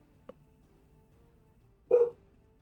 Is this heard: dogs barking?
yes